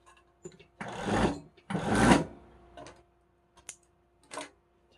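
A sewing machine stitching elastic with a long stitch length runs in two short bursts, close and moderately loud, followed by a few faint clicks and handling noises.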